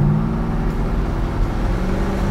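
A 1964 Oldsmobile Cutlass restomod accelerates on the road, its engine a steady low drone and hum heard from inside the cabin, loud and continuous with no talk.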